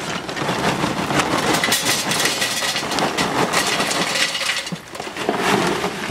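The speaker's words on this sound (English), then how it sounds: "Remember to precisely dump your charcoal into the chimney starter" Charcoal dumped into a metal chimney starter beside an egg-style grill while preparing ribs, a loud, dense, continuous rattling rush of tumbling lumps lasting several seconds with barely a pause.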